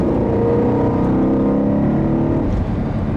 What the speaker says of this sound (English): This thing was born to be a screamer, and I love that BMW put a screaming V8 in it.